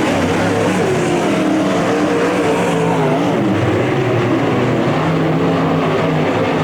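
UMP modified race cars in a heat race at Merritt Speedway, their engines roaring loudly and continuously as the pack runs down the back straightaway and through turns three and four, layered revving drones rising and falling.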